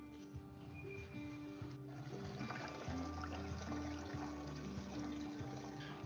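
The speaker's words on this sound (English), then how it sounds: "I'm just going to put 5 litres in." Five litres of water are poured into a plastic backpack sprayer being filled for herbicide spraying, a steady, fairly quiet gurgling splash of liquid filling the tank throughout.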